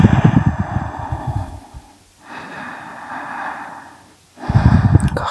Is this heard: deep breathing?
yes